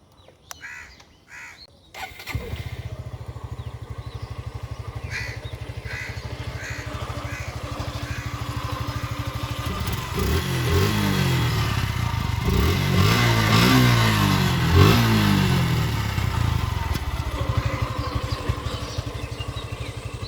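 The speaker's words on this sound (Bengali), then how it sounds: "এখন আপনাদেরকে ইঞ্জিনের সাউন্ড শোনানো হবে।" Suzuki FI Disc motorcycle in like-new second-hand condition, its engine idling steadily nearby, then revved up and down several times in a rising and falling pattern before settling back to idle, with a few brief clicks at the start and no talk.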